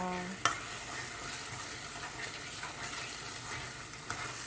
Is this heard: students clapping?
no